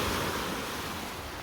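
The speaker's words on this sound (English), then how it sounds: "Look at these waves though." Ocean waves break and wash ashore in a broad, roaring surf that stays loud and steady throughout, mixed with some wind and no talking.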